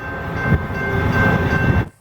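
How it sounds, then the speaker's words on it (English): A train rumbles past up close on the line at Girard, Illinois, a loud steady roar with a sustained horn tone that cuts off abruptly near the end. "there was another train coming"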